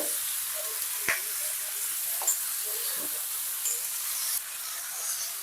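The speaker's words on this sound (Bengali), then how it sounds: "মাংসটাকে কিছুক্ষণ ধরে একটু ভাজবো।" Mutton pieces for Champaran mutton fry in a pan with a steady, close sizzle, broken by a few sharp pops and crackles along the way.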